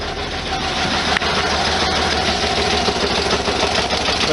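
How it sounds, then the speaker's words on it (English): A 1973 VW Super Beetle engine runs at a steady idle, loud and close, with a rapid ticking valve clatter over the air-cooled motor's rumble. "I got all kinds of valve clatter and stuff."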